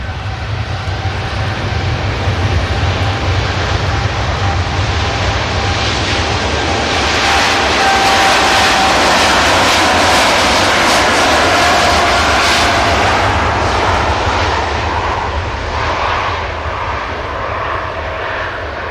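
A Boeing 787 Dreamliner in a colourful petals livery, heavily laden for a long-haul departure, roars down the runway at Manchester Airport, a loud, sustained broadband engine rumble swelling toward the middle and easing slightly near the end, with no talk.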